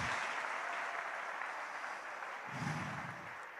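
A church congregation applauds, a steady, dense crowd clapping heard from a distance at moderate level, with a brief swell near the end.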